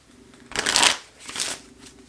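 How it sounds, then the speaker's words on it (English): A deck of playing cards being riffled and shuffled, two quick bursts of rustling flutter close by, the first longer and louder than the second. "we'll just put the king back in and shuffle for book number 2"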